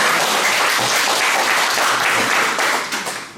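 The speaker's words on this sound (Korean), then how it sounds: "힘찬 박수가 필요합니다" A room full of people at a vinegar-making lecture gives hearty applause, a loud dense clatter of clapping that holds steady, then tapers off in the final moments.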